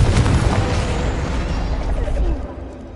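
A Confringo fire spell blasting in the Hogwarts Legacy video game, a loud, close booming burst with a crackling rumble that holds for a couple of seconds and then tails off.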